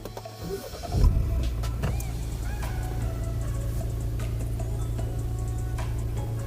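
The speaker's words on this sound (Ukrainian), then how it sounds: "заводимо машину" A turbocharged car, hooked up to a multi-brand diagnostic scanner, cranks and starts with a loud surge, then settles into a steady low idle with faint ticking.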